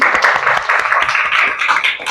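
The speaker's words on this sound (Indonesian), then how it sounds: "Beri tepuk tangan." A classroom group applauds students, with dense, overlapping hand claps that stay steady and fairly loud throughout.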